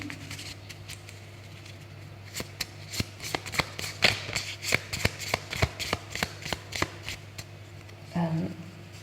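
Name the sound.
shuffling tarot cards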